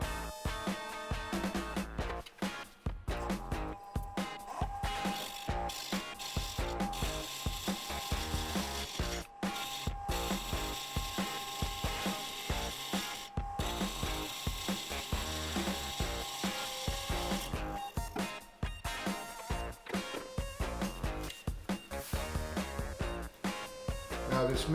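A wood lathe spins a wooden ring while a tool trues up its edge, giving a continuous close scraping and rattling drone with rough, irregular bursts throughout.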